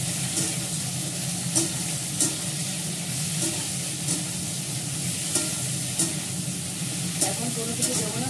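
Vegetarian food fries with salt in a pan, a continuous sizzle and hiss broken every second or so by sharp clicks and scrapes of stirring, close and fairly loud.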